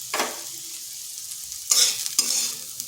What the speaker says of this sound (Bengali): পোস্তটা দিয়ে খুব বেশিক্ষণ রান্না করব না, আঁচটা স্লো আঁচে করে 2 থেকে 3 মিনিট এইভাবে নেড়ে নিচ্ছি।